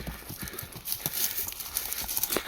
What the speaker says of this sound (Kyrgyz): Кайраттуу жылкы экен бирок Шеран.